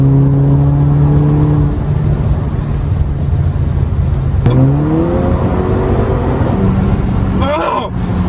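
A Mercedes A250 accelerates hard, its engine note climbing in pitch, dropping briefly at a gear change, then rising again. The engine is loud and continuous inside the cabin, with faint voices underneath.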